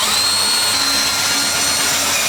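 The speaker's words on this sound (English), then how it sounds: "I don't think James understands that the drill bit is meant to cut the steel, not the other way around." A power drill whines loudly and continuously as its bit bores into steel, with a steady high-pitched tone and no voices over it.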